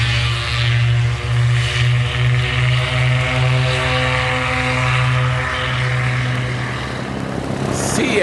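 A propeller aircraft drones steadily and loudly overhead as it circles in thick fog, its engine note holding constant and near with only slight swells in pitch.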